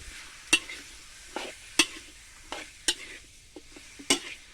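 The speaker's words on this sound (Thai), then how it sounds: "เอาไก่ลงไปขัวพี่น้องครับ" Intermittent scraping and clanking of a spatula in a pan at regular intervals, over a soft background sizzle of chicken frying in oil.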